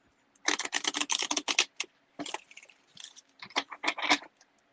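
Tarot cards are shuffled in quick bursts of crisp, rapid clicking and riffling, with short pauses between, close and fairly quiet.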